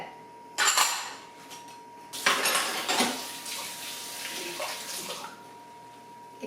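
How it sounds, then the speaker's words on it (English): Macaroni and cheese ingredients with banana peppers and garlic salt being stirred in a bowl, clattering and scraping in bursts of utensil against dish, close and fairly loud with pauses between. "the banana peppers, the garlic salt, mix this together"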